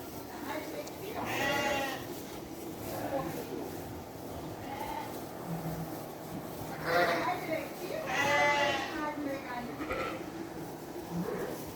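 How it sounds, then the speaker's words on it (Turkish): Sheep bleat in a few loud wavering calls, near and separated by pauses, over a steady outdoor background. "Ha, ne güzel koyunlar."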